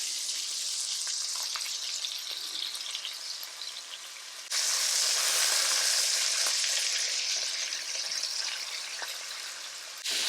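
Dutch gehaktballen meatballs browning in a hot pot give a continuous close sizzle that jumps louder midway as the pot is moved, with faint scrapes underneath.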